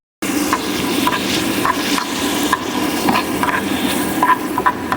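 Tomatoes fry in a pan for a canned tuna dish, giving a steady, close sizzle with soft scraping stirs that recur throughout.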